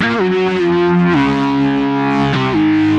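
A sustained synth lead plays a slow stepped melody, gliding between a few held notes, bright and full with no talking.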